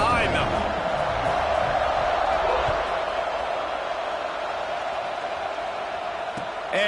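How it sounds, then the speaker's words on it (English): Stadium crowd noise from the college football video game NCAA Football 26 as Oregon and LOC set to kick off, a steady broad roar holding loud and unbroken throughout with a commentator talking over it. "this crowd now ready to get behind them"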